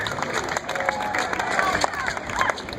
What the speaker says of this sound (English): Let's give a round of applause for Asia.